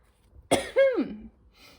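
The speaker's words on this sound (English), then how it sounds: "I can't stop coughing" A single sharp cough followed by a short throaty, voiced hack, close and loud in an otherwise quiet room.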